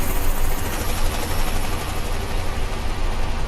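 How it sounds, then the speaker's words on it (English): A helicopter flies close overhead in Euro Truck Simulator 2, a loud, dense, steady rotor-and-engine roar with rhythmic thumping that fills the whole clip. "this helicopter's getting a bit close"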